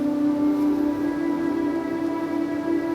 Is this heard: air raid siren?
yes